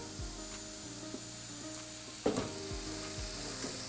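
Mushrooms sizzle steadily as they fry in a pan for a Thai green curry noodle bowl, with occasional stirring scrapes and one sharper clatter midway, no voices over the continuous crackle.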